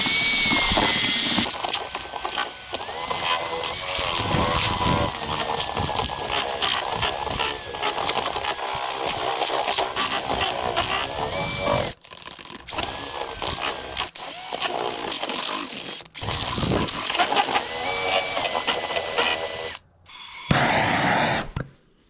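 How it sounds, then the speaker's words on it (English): A vacuum pump runs on a Bacoeng epoxy resin vacuum pot, making a loud, steady mechanical drone with a high whine. It cuts out briefly a few times, then stops near the end before a short final burst. "That way we can test this vacuum pot."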